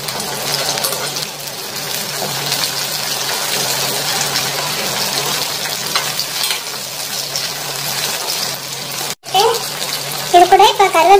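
Onions sauté in a pan for drumstick fish curry, giving a steady close sizzle and hiss, with a short break and a few stirring scrapes and clinks toward the end.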